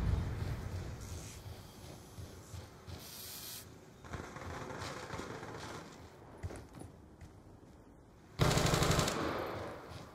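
Sentry gun firing in Black Ops 2, a steady run of gunfire with a louder, closer burst near the end.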